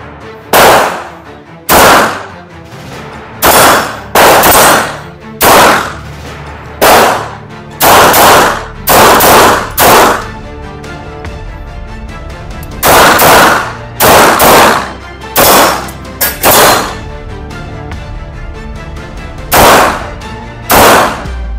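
Springfield Armory Echelon pistol firing on a range, a loud close sequence of sharp shots, some spaced singly and others in quick pairs and strings, over about twenty seconds.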